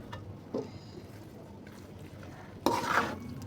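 Carrot halwa stirred in a pan, a few soft scrapes and clinks of a spoon against the pan, with one louder scraping stir near the end, close and fairly quiet, no voices.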